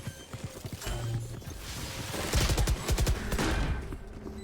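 Stinger gun fire in a competitive Valorant-style shooter match, rapid bursts of shots crackling in quick clusters over busy game ambience, growing denser toward the middle.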